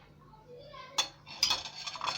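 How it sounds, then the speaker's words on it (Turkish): Fried eggplant pieces are laid into a dish for shakshuka, producing a few close, soft clinks and clatters of utensil on dishware that follow a quiet lead-in. "Patlıcanlarımı koyuyorum"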